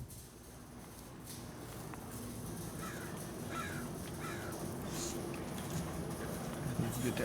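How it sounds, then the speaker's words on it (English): A crow caws a few times at a distance, short harsh calls standing out over a steady low background hum near a motorcycle workshop. "Get that crow."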